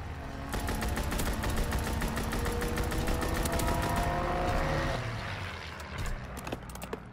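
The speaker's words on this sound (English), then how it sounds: "Strafing run inbound." An aircraft strafing run in Call of Duty WW2, a long rapid burst of machine-gun fire rattling evenly over a droning engine roar for several seconds, then fading away as a few scattered shots remain.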